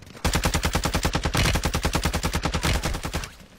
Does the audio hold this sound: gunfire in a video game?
yes